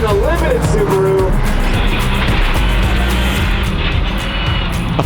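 A limited-class Subaru rally car revs hard and pulls away on a fan-friendly first stage, its engine loud and close. A voice speaks over the opening moment.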